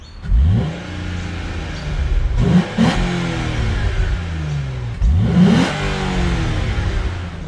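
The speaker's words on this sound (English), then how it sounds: "we're going to do some before clips to see what it sounds like with the original exhaust" A Hyundai Tiburon engine revs hard twice through its original stock exhaust, rising and falling in loud bursts, with a steady idle rumbling between the revs.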